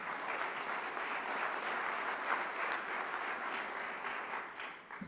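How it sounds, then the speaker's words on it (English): Steady applause from a large audience at an annual meeting's opening plenary session in San Francisco, a dense, even wash of clapping that holds throughout and thins slightly near the end. "they deserve a round of applause for our commitment as well"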